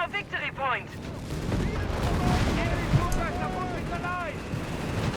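Sherman 105 guns fire incendiary rounds in Company of Heroes 3, a dense run of booming impacts and crackling battle noise layered with chirpy game effects, sustained and mid-distance under a caster's voice.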